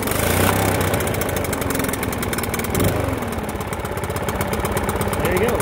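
A Stihl BR800C backpack blower's engine pulls over and runs with a steady, loud, buzzing drone that fills the whole stretch, close by.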